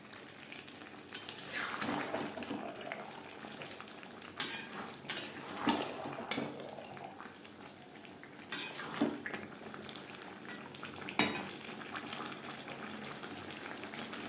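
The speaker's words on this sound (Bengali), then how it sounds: "মাংসের সাথে আলু বেশ ভালো করে মিক্সড করে দেবো" A spoon stirs potatoes into chicken curry in a pot over the flame, with clinks and scrapes of metal against the pot rising in bursts above a continuous simmering sizzle.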